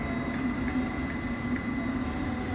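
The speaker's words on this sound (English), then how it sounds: "This is a District line train." A faint, steady rumble and hum of a London Underground District line S-Stock train running, with soft periodic clicks over a low drone and no talking.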